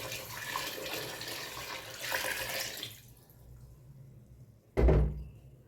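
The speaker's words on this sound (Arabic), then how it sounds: "فكل قالب غنضيف ليه لتر د الماء" Water poured into a pot holding sugar blocks, a loud rushing pour for about three seconds, then quieter trickling, ending with a short sharp splash or knock.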